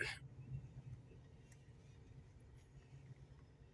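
A car approaches and passes on a downtown street in McKeesport, Pennsylvania, a low, fairly faint engine rumble that swells early and then fades steadily as the vehicle moves away, with no voices.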